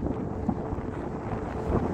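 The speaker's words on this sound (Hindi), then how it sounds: "क्या हवा चल रही है" Strong wind at the high Shingo La mountain pass in Zanskar buffets the microphone with a loud, continuous roaring rush and no talk.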